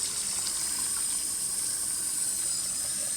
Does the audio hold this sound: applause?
no